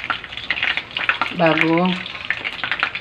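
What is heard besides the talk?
chicken frying in oil, second fry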